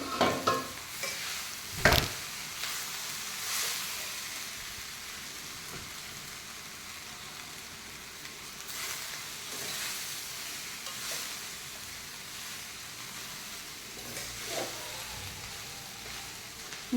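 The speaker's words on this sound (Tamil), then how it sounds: "பாஸ்மதி ரைஸ் போட்டு நல்லா கிண்டிக்கலாம்." Cooked basmati rice being stirred in a frying pan, a soft continuous sizzle with scraping spoon strokes and a sharper clatter near the start, steady and close with no voices.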